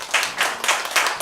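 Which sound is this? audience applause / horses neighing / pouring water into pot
audience applause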